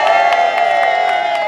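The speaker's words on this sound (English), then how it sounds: "Please give her a round of applause" Audience cheering and whooping at a Black Activists Rising Against the Cuts gathering, a loud sustained crowd roar with a bright held tone, no clear speech.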